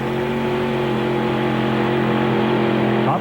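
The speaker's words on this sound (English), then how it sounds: "Up come the revs on that supercharged engine" A supercharged drag racing engine at an IHRA drag racing event in Darlington, South Carolina, revving loud and close in a steady, sustained drone with a rising pitch toward the end.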